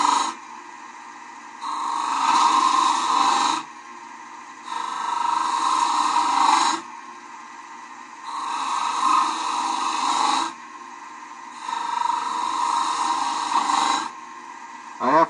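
A skew chisel cuts a V-groove into spinning wood on a lathe, four separate bursts of scraping hiss, each lasting about two seconds with quieter gaps between them, and a voice speaking during the pauses.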